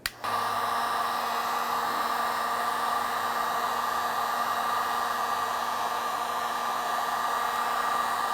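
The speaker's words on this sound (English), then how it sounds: "we are going to use a heat gun to gently heat up the plastic and release some of the adhesive on the back side" A heat gun blows hot air onto the plastic tailgate handle area of a 2005-2021 Nissan Frontier to loosen adhesive, a constant close whooshing drone with a steady whine that starts abruptly and runs alone.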